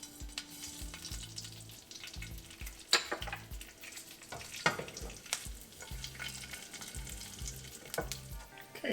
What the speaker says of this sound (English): we'll go ahead and add our cumin to it and get the cumin popping